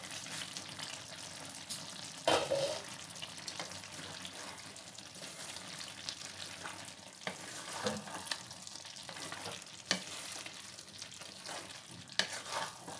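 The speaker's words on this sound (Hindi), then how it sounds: "सब्जी भी मेरा पक रहा है।" Vegetables for veg biryani fry in a pan, with a steady close sizzle and occasional scraping stirs rising above it throughout. No one speaks.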